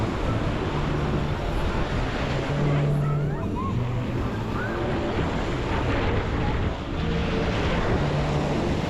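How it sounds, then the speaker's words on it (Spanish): Surf rolling onto the beach at Playa del Carmen, a steady broadband wash of breaking waves under gusty wind, with faint music and a low hum nearby; no one speaks. "quiero que observéis un poco la última ola esta"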